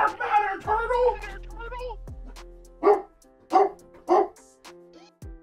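A dog barks in several short, loud bursts, spaced roughly evenly, after excited shouting and a soft whine at the start.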